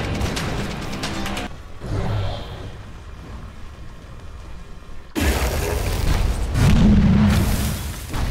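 Tower under attack in a Dota 2 match: loud, booming explosions and crashing impacts come in dense bursts, with a quieter lull in the middle before the heavy blasts return.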